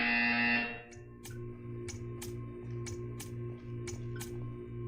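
A loud electronic buzzer from the video game Portal 2 sounds for half a second, then gives way to a steady mechanical hum broken by a series of sharp clicks.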